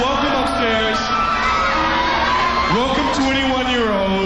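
A large crowd at a 1991 New Year's Eve concert in San Francisco cheers, whoops and yells loudly and continuously, with scattered shouts rising above the roar.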